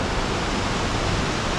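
A waterfall in the Oku-Nikko hills near Tokyo gives a steady, dense, full-bodied roar of rushing water, close and unbroken throughout with no voices.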